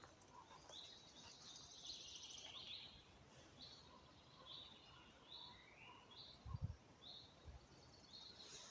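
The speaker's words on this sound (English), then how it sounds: "Oh, that's a raven." Ravens call from a forest, repeated hoarse croaks spaced every second or so at a distance, faint over a quiet woodland background with a couple of brief low thumps.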